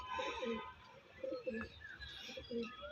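Andhra pigeons at a pigeon sale give soft, low, repeated cooing calls in short phrases, close by and fairly quiet, with no voices over them.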